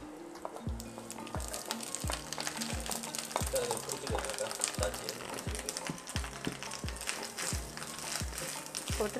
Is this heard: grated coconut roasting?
yes